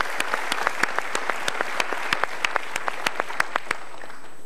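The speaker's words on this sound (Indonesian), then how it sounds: "Tepuk tangan sekali lagi untuk sahabat-sahabat kita dari kita para atas" Individual hand claps ring out one after another in a fast, regular run, sharp and close, spaced evenly across the clip and thinning out near the end with no voices over them.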